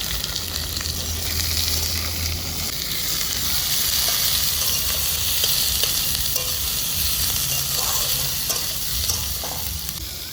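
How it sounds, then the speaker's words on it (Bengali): Chopped onion and green chilli fry in hot oil for duck curry, producing a loud, even, crackling sizzle with soft stirring underneath, close and unbroken for the whole stretch. "এবার আমি দিয়ে দিচ্ছি পেঁয়াজ কুচি আর কাঁচা লঙ্কা কুচি"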